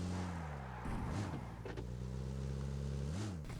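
A car in the video game PUBG Mobile drives with a steady, loud engine drone whose pitch dips and climbs briefly as the car shifts and accelerates, with no talk.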